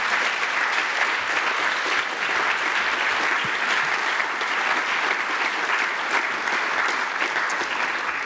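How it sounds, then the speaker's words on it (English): An audience applauds a Hyperloop panel at an evening talk, with loud, sustained and dense clapping from a large crowd filling the room for several seconds. "a round of applause, please?"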